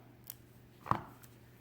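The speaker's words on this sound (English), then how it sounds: "Cut your other tail." A single crisp snip of scissors cutting the cord tail of a beaded bracelet, close and quiet, preceded by a faint click, in an otherwise hushed room.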